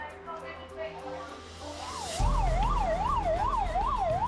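An ambulance siren wails in a steady rising-and-falling cycle, entering loud and close about halfway through over a low vehicle rumble, with indistinct background sound beforehand.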